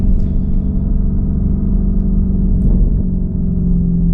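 A car's exhaust rumbles loudly and close throughout, a deep steady engine roar held at high revs with little change over several seconds.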